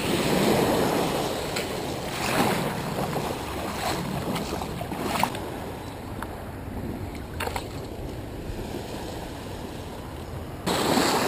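At a beach shore during a storm, heavy wind buffets the microphone in a constant roar over rushing surf and rain, with a few brief knocks and gusts.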